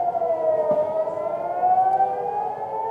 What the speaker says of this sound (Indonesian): sirene di kota Tel Aviv kembali berbunyi